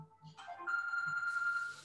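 Phone ringtone playing a steady electronic melody that starts after some faint background sounds and continues at moderate loudness, heard during a guided breathing and mobility exercise session.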